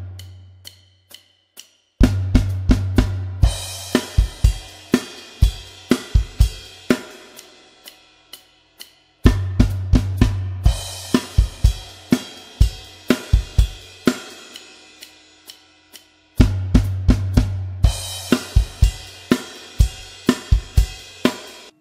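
Drum fill in 3/4 time from a rock song, played three times on a drum kit: each run opens with a low tom roll, then crash cymbals and sharp snare and kick hits, with short pauses between.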